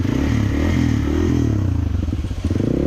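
Hero Xpulse motorcycle engine revving on a muddy trail: a loud, close, throbbing engine held at steady revs that dips briefly and picks back up, with no talking.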